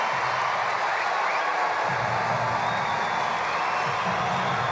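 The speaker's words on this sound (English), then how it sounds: "Team Greece, Sakellaridis sends the Greek fans into a frenzy." Greek fans cheer and applaud at a United Cup tennis match, a steady, dense crowd roar with clapping that holds loud throughout without a break.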